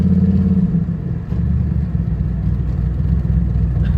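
A steady, deep Pontiac G8 exhaust rumble drones continuously at close range, with a brief dip partway through before settling back to an even idle.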